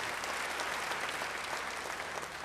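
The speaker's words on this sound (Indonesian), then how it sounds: "Yang percaya beri tepuk tangan yang baik bagi dia." A church congregation claps steadily in a dense, even wash of applause that holds at the same level throughout, with no speech rising above it.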